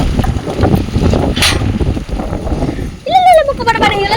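Strong wind roars and buffets the microphone during heavy rain, loud and continuous, then a voice speaks and exclaims over it near the end.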